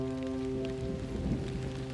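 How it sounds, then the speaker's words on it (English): Steady rain falling over the highlands around Eldoret, Kenya, a dense continuous patter of droplets on surfaces, with no voices. "That's rain falling on the highlands of Eldoret."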